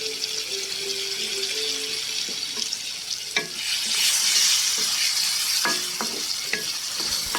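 Garlic paste sautés in a pan for loitta shutki, a steady close sizzle with intermittent scraping and tapping of a stirring spoon against the pan.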